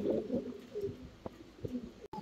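Fancy pigeons at a breeding farm coo in low, throaty bursts, several soft calls close by with brief pauses between them.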